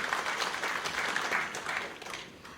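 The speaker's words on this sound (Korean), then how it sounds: "이상욱 시인님께 큰 박수 부탁드리겠습니다." Audience applause for a poet at the founding general meeting of a Korean digital-poetry association's Jeju chapter, a steady, fairly soft wash of clapping that continues without break for the whole stretch.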